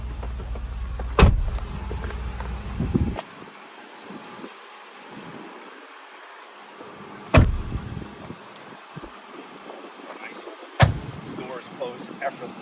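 Doors of a 1990 Mercedes-Benz 420 SEL shut with three separate solid thumps, spaced several seconds apart and close by, over a quiet background with faint rustling between them.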